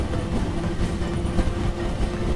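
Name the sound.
train departing station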